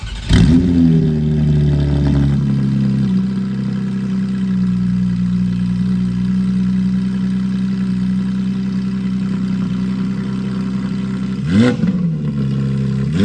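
A loud Porsche 992 GT3 flat-six engine, 2022, through a long-tube header exhaust, rises to a high, sustained scream near 9,000 RPM, holds steady for several seconds, then drops and blips again near the end; no voices.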